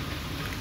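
Rain falls steadily outdoors on a street, a dense, even hiss of drops with no break, brief and moderately soft.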